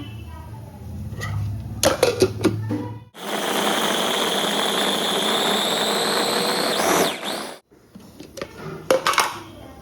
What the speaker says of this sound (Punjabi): ਤੇ ਹੁਣ ਇਹਨੂੰ ਆਪਾਂ ਬਲੈਂਡ ਕਰ ਦਿੰਨੇ ਆ